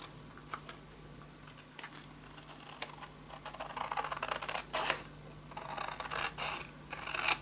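Scissors cutting paper for a pop-up mini album, a series of close, crisp snips and rustling paper that start sparse and grow busier and louder toward the end, with no talking.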